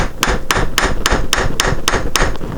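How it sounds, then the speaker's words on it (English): Wooden mallet striking a woodturning lathe drive center into a wooden blank for a bird's mouth bowl: eight sharp, evenly spaced knocks, close and loud, with no talking. "Give my drive center a few whacks with a wood mallet to lock it in"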